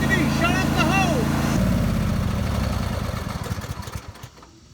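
A John Deere E130 riding mower engine runs close by with a steady idle chug under a voice at first, then keeps thumping on its own and fades toward the end.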